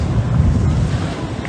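Ocean waves on an island shore at Gigantes in the Philippines, a steady low wash of surf mixed with wind rumble against the microphone, continuous and fairly loud with no talk.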